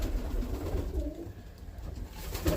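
Roller pigeons coo softly in a loft, with low, repeated throaty calls set against quiet background noise and no talking.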